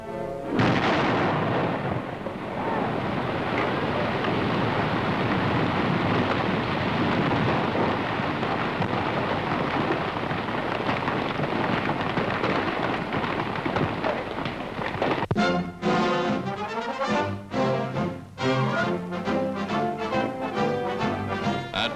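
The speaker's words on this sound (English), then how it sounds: "Now hold tight and watch for the explosion." Tons of dynamite blast a bed for a pipeline beneath a river bottom, a long, loud roaring explosion that rumbles on for many seconds before breaking into a choppy, pulsing tail.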